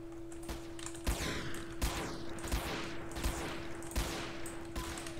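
Repeated Desert Eagle shots in the SA-MP multiplayer game, about half a dozen loud cracks fired in an uneven rhythm over a constant background tone.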